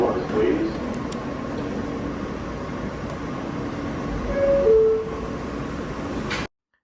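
A New York G subway train running between Queens and Brooklyn, with a steady rumbling drone, brief squealing tones midway, and a loud swell before the sound cuts off abruptly; no clear talk over it.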